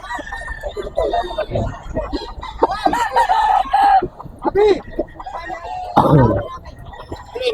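A rooster and other chickens at the Grotto market cluck and crow close by, with a long crow near the middle, surrounded by overlapping market chatter and voices.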